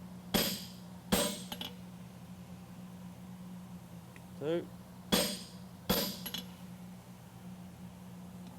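Four sharp metallic blows of a blacksmith's set hammer on hot steel ring out at uneven intervals over a steady low hum, with a brief spoken word between them.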